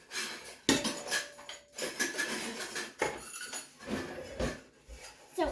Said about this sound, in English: we kind of do a little swatchy in there, and then we rub it around the pan